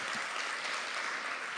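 An audience at a London local campaign event for Wards 5 and 6 applauds the candidates, a short, even burst of many hands clapping at steady volume.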